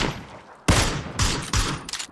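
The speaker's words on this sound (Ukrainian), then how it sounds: "Стріляй по ньому." Bursts of PUBG gunfire on the Erangel map, several loud sharp volleys in quick succession after a brief quiet start, with rapid automatic fire.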